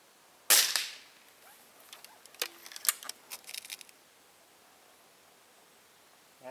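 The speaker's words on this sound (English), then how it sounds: "I'll put a couple of more rounds down" A single sharp report from an FWB Sport air rifle with open sights fires near the start, then lighter clicks and mechanical handling noises follow before quiet.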